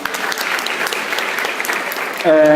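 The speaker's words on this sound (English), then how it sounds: "I think it's worth giving them a round of applause" Audience at a Somali studies association opening ceremony applauds volunteers, a steady burst of many clapping hands that gives way abruptly to a voice at the very end.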